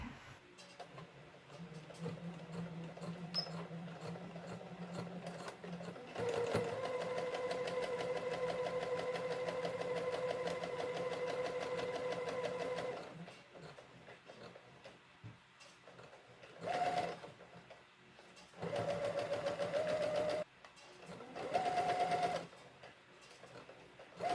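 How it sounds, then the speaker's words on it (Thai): A sewing machine stitches a fabric face mask, running in one long steady whirring burst of about seven seconds, then in several shorter spurts with quiet gaps between them. "เราก็จะทำการเย็บตั้งแต่นี้เลยนะคะ เย็บมานี่"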